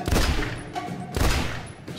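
Gunfire in the shooter game The Bureau: XCOM Declassified, two loud heavy shot bursts about a second apart with echoing decay, close and prominent with no talk over them.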